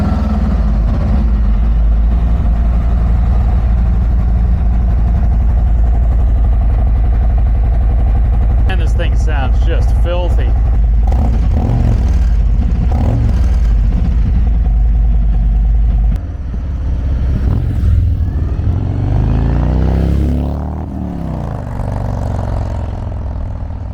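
A Mazda CX-5 engine rumbles loudly and continuously up close, with revving swells partway through and some talking over it.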